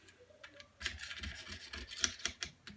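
Knife scraping excess glass bedding compound off a rifle stock, braced against the magazine plate, a quiet close series of short rasping strokes and scratches with a few brighter clicks.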